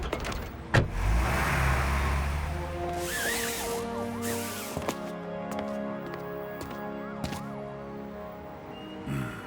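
A cartoon car starts with a sharp whoosh, then its engine revs and drives off, followed by scattered clunks and rising tonal effects over music.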